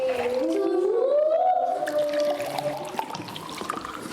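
Water pours from a cup into a bucket in a steady gurgling stream with a rising pitch as the vessel fills, followed by quieter splashing and dripping.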